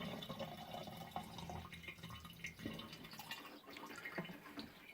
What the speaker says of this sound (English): thing is draining fuel at a fast pace